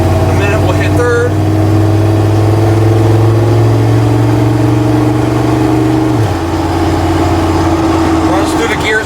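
A 1974 Ford Bronco engine pulls steadily under load, holding a strong drone before a clear drop in pitch as it shifts up a gear, loud and close throughout.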